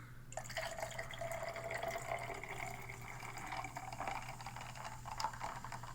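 Reign Carnival Candy flavour energy drink pours into a glass in one continuous, fizzy, trickling stream lasting several seconds, close and clear over a faint steady hum.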